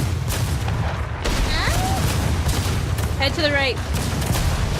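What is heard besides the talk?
enemy ship firing cannons at the players, from a video game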